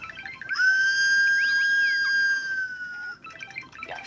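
A 1980s German toy whistle blows one long, steady, high-pitched tone lasting a few seconds, with faint mechanical chatter of little race cars before and after.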